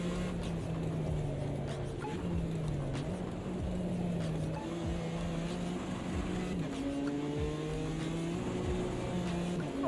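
A BMW race car's engine in the Automobilista 2 racing game drones steadily, its pitch rising and falling with gear changes as it runs through a lap, heard alone without talk.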